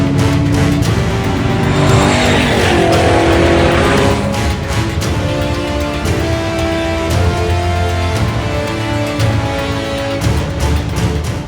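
Hot Hatch Championship race cars on the grid at Castle Combe circuit, engines running loudly and continuously with layered revving tones and steady mechanical roar throughout, no talking.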